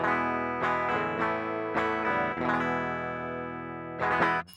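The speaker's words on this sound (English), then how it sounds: "if I just have my guitar straight into here with the plugin turned off" Plain, dry electric guitar plugged straight in as a clean DI signal, notes ringing out with sustained harmonics, a few picked attacks spaced irregularly, clean and unprocessed.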